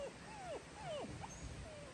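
A dog whimpers on spotting another dog outdoors, letting out several high, sliding whines in quick succession. The whines are fairly faint over a low background.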